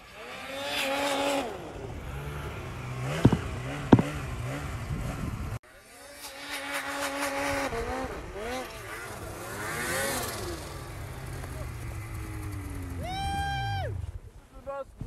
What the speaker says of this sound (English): let's hear a little bit about this turbo.